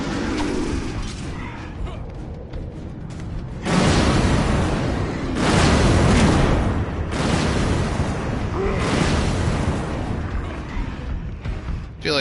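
Big explosions in Batman: Arkham Asylum, with several loud rumbling blasts arriving every couple of seconds over a constant mechanical game background.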